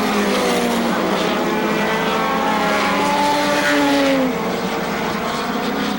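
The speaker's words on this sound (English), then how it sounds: "One more lap in the record books for Ryan King, looking for his first midget win." Midget race cars circle the Seekonk Speedway oval in a loud, continuous engine roar, with rising and falling whines as several cars pass close by in turn.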